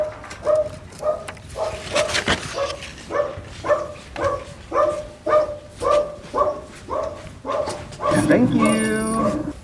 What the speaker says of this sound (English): there goes the barking dogs